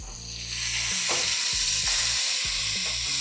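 A smash burger patty sizzles loudly on a hot griddle right after being flipped, a steady, close frying hiss with a few soft scraping knocks and no voices.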